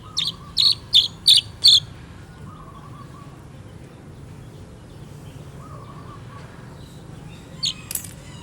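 A small bird chirps close by in a rural Vietnamese setting, four sharp, evenly spaced chirps followed by a soft steady background hum, then two more faint chirps near the end.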